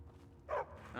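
A dog barks in Skyrim, a single short yelp-like bark at moderate distance, heard over low game ambience.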